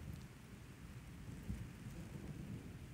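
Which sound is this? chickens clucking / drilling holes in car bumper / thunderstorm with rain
thunderstorm with rain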